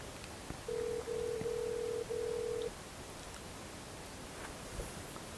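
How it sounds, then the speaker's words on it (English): A Skype call ringing tone plays as a steady electronic tone in a few back-to-back pulses lasting about two seconds, then stops, leaving faint room hiss with no talking. "I am using Skype to call him"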